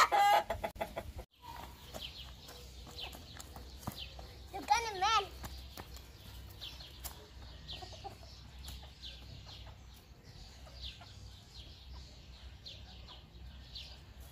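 Chickens cluck steadily nearby while a rooster crows, mixed with people talking and faint rustling.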